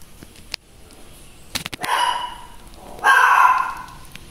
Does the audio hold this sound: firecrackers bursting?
no